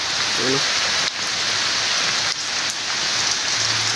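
Steady rain falling outdoors beside a Suzuki Carry multicab being repaired, a dense continuous hiss of drops on surfaces, loud and close, with brief faint sounds of a person in the background.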